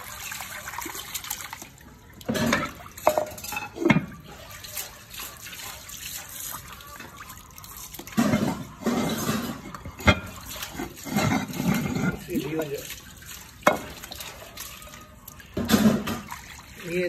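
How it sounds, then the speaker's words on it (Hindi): Plates are washed under running water, with a steady trickle and splash broken by irregular clatters and louder bursts of pouring over about seventeen seconds, close by and with no talk. "और ये प्लेट के धोते हैं।"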